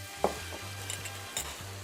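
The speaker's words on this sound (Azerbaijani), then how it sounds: "Hər ikisini bura əlavə edirik." Tomato paste and chopped tomato with its juice hit a hot pan with a soft, steady sizzle, while a spoon clinks and stirs a few times, close but fairly quiet, with a low hum running underneath.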